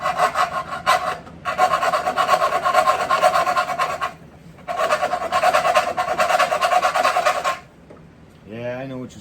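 A metal hand file rasps across the metal of a power entry module in two long bouts of rapid back-and-forth strokes, harsh and close, with a short pause between them and a brief voice at the very end.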